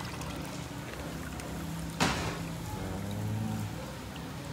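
Water poured off cooked squash colache into a vessel, heard as a brief close splashing gush midway through an otherwise steady low background, with no voices.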